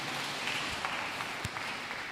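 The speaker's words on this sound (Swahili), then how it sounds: "no tũikare thĩ tuwapigie makofi" A church congregation at a Kikuyu service applauds newly ordained elders, a steady wash of many hands clapping together, heard from some distance and fairly soft, with no voices over it.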